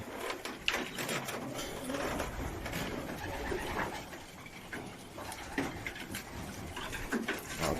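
Soft cooing from a crested pigeon during a pigeon-racing training flight, low murmuring calls recurring quietly against a faint background with some light ticking noise.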